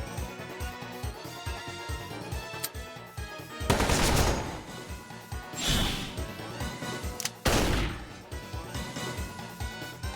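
Gunfire blasting a boss in the tactics game Metal Slug Tactics, with rapid machine-gun bursts and heavy explosive impacts over pulsing game music, loud and repeated across the stretch.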